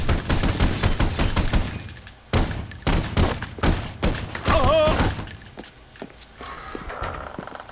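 Gunfire in the original Xbox action game The Punisher comes in close, loud bursts of rapid shots separated by brief gaps, with thumping steps mixed in, before tapering off toward the end.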